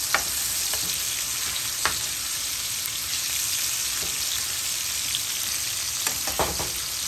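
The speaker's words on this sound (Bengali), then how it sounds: "তো আমি ফিশ ফ্রাইটা করি যেভাবে অনেক মজা হয়" Fish frying in a pan of hot oil: a continuous loud sizzle with occasional sharp pops and crackles, close up and with no talking.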